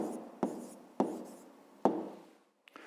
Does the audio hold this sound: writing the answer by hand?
yes